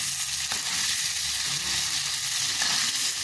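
Sea fish and shrimp fry in hot oil in a pan, a steady close sizzle and crackle with small stirring clicks, no talk.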